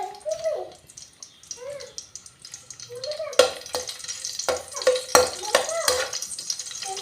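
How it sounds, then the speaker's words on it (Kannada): Garlic in hot oil, with a soft, irregular background at first, then a loud crackling sizzle breaking out partway through, punctuated by sharp spattering bursts and stirring clinks close by. "ಲಾಯ್ಕ್ ಎಣ್ಣೆ ಕಾಯಡು ಬೆಳ್ಳುಳ್ಳಿ ಪಾಡಕ"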